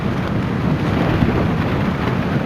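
Strong wind buffets the microphone at an exposed campsite in Bouddi National Park, a loud, continuous low rumble that swells and roars without pause, alone with no voices.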